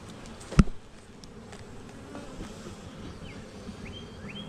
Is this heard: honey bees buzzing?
yes